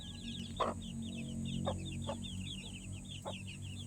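Hens cluck softly in a poultry coop, a string of quick repeated clucks over a steady low background hum.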